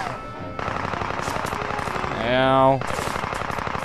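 Gunfire aimed at German soldiers in the video game Indiana Jones and the Staff of Kings, loud rapid machine-gun bursts running almost continuously, with a short rising mechanical whine partway through and a brief spoken word.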